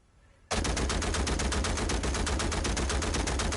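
Rapid sustained automatic fire from a Stoner light machine gun in the multiplayer of Uncharted 4, a loud, dense, evenly paced burst that starts abruptly after a short quiet moment and continues without pause.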